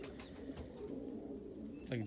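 Pigeons coo outdoors on a cold winter day, low, soft rolling calls that sound faint and somewhat distant, with a brief louder burst near the end.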